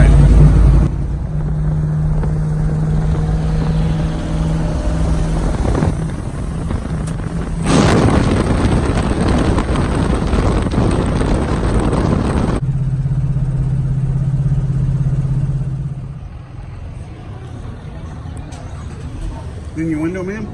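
Ford Mustang engine running close and loud with a steady drone and a long, harsh burst of louder roaring wind or exhaust noise in the middle, easing quieter near the end.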